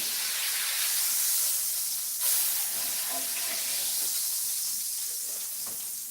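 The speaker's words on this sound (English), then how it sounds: "Like I said, we're just searing the meat." Meat searing in a hot pan before going into a crock pot, giving a steady broadband sizzle and hiss that stays loud and continuous throughout, with a brief flare-up partway through.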